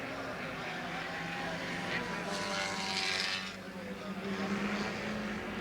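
Touring car from the 1970 Tasman Championship at Warwick Farm driving gently across the wet causeway, a steady engine drone with hissing spray, heard under continuous commentary.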